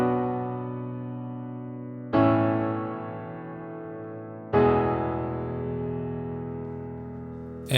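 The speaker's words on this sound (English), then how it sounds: "So what I've pulled up here is a very natural sounding piano." A natural-sounding piano playing three sustained chords, each struck firmly then slowly decaying before the next, close and clear with no voices.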